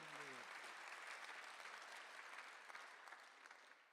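Applause from a church congregation during a Korean Sunday afternoon worship service, a steady dense wash of clapping that fills the room throughout, with a brief voice at the very start.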